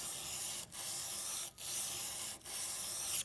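A plane blade slides back and forth flat on a sharpening stone in steady, hissing strokes, with brief pauses at each change of direction, close and fairly quiet.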